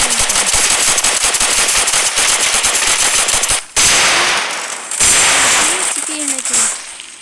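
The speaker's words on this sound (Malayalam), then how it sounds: "പിന്നെ ഇതാ ബോംബ്" Firecrackers explode nearby in a loud, dense crackling barrage of rapid bangs, pause for a moment, then burst again in heavy blasts, with a voice faintly audible beneath.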